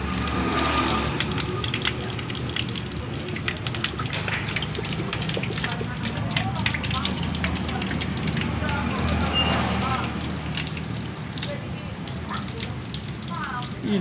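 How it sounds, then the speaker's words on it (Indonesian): Water gushes and splashes from a clogged tap as it is cleaned, a continuous hissing spray with sputtering bursts, with people talking over it in places. "pembersihan keran air tersumbat"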